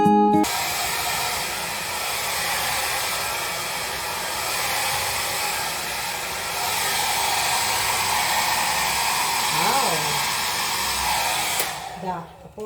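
A handheld hair dryer blows continuously at close range while drying hair, a loud steady whooshing hiss that holds from start to end before cutting off abruptly at the close.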